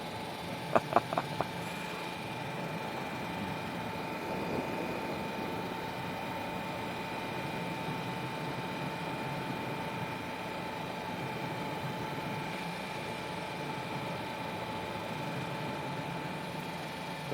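Steady car engine hum while cruising in fifth gear at about 3,500 rpm and 38–39 mph on a German road, a constant drone with a few brief clicks near the start and no talk.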